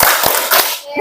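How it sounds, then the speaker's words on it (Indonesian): A class of students performs the Tepuk PPK clapping routine, loud close claps in a quick rhythmic burst of a few beats, ending abruptly. "kita mau tepuk PPK dulu"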